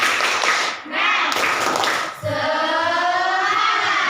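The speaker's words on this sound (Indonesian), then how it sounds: "kita coba tepuk semangat dulu" A school class in Indonesia does a rhythmic spirit clap. A few sharp claps are followed by the group chanting together, and the voices carry on over the clapping.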